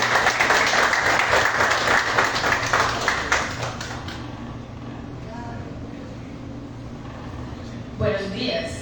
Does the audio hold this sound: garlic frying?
no